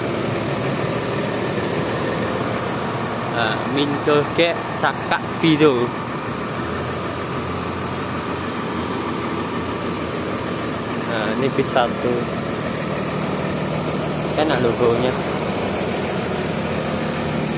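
A Gumarang Jaya tour bus with a rear engine idles, a smooth steady low hum with an air-conditioning-like whir, while someone talks over it in bursts.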